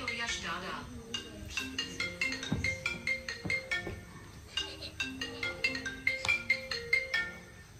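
A phone rings out through an outgoing call in a Marathi comedy sketch: a bright, melodic ringtone tune with repeating plucked notes, fairly quiet and steady.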